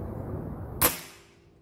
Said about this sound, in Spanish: voy a proceder a hacer los tiros que les había comentado